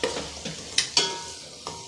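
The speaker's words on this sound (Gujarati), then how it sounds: "થોડું હલાવી દઉં ચોટી ના જાય," A spoon stirs a hot tempering in a pan, several distinct scraping strokes at an uneven rhythm, close and fairly quiet, with a light sizzle underneath.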